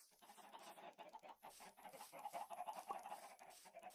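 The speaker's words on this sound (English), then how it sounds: "Alright, those are just chickens." Chickens clucking in the original Minecraft video game, a busy cluster of soft, rhythmic clucks and squawks that persists throughout at moderate distance with no talking.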